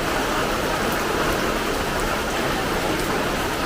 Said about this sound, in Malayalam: ഭയങ്കര മഴയാണല്ലോ ഇന്ന്